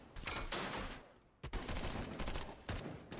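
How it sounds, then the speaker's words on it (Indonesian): Loud, close gunfire in rapid overlapping volleys, several bursts of shots crackling one after another as in a shootout. "Sehingga baku tembak pun tidak terelakkan pada saat itu."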